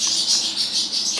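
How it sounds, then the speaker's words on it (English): Two pet parrots chirp in quick, repeated bursts from a little way off in a room, lively and excited. "can probably hear my two parrots going crazy back there, chirping up a storm."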